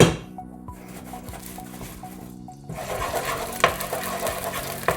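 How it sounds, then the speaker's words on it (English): Ginger dropped onto a wooden spoon into a hot pot of oil, with a steady mid-level sizzle and crackle that grows louder partway through, plus a few sharp clinks of the spoon against the pot. "You're looking for that sizzling sound."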